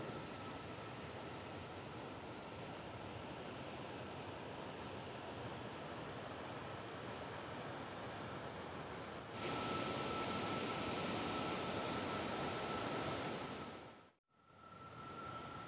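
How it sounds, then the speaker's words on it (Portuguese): Waterfall at Missão Velha, Ceará, in the Araripe Geopark, gives a steady, dense roar of falling water that grows louder partway through and briefly cuts out near the end, with no talking. "Cachoeira de Missão Velha."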